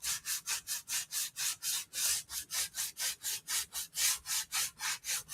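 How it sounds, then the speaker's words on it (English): Back of a wooden sign with burn marks sanded by hand, a loud, close, steady rhythm of about twenty even back-and-forth rasping strokes, roughly four per second, with no talking. "you can just sand them as well"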